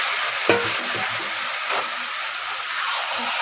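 Marinated chicken meat dropped into hot oil, a loud continuous hiss and sizzle with a couple of sharp knocks as it is stirred, close and steady throughout.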